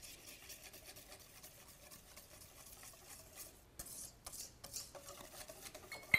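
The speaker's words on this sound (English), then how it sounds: "It takes a little bit of stirring, but it's well worth your while because this chocolate is going to be dynamite." Stirring cocoa powder into a raw chocolate truffle mixture, with a soft continuous scraping and rubbing of a utensil against a bowl, faint and close, growing slightly louder and choppier near the end.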